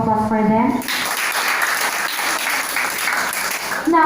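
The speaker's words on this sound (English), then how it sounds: "A round of applause for them." Audience applause for the judges at a senior high school math debate event, a steady burst of clapping filling most of the moment, with a voice speaking briefly before it starts and again as it ends.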